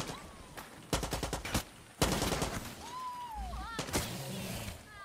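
Gunfire in the video game Far Cry 6, bursts of rapid automatic shots and single cracks echoing, mixed with whistling and in-game vehicle or ambient sounds; moderately loud with pauses between volleys.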